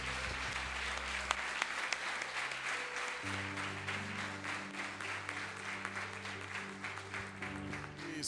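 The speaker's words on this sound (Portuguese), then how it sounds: "Vamos aplaudir bem forte a vida deles?" Congregation in a church applauding steadily and loudly, a dense wash of many hands clapping throughout, with a sustained musical drone or organ tones entering underneath partway through.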